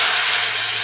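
A hot tempering of spices fried in oil until reddened is poured into boiled moong dal varan, giving a loud, steady broadband hiss and sizzle that fills the whole brief moment with no voices.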